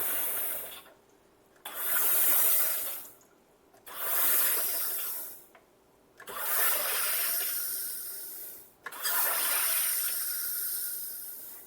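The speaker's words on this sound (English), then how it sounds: "You hold it down for bubbly water about five times," A SodaStream Fountain Jet sparkling water maker carbonating water: four or five loud, close hissing bursts of roughly two seconds each, separated by short pauses, with no talking.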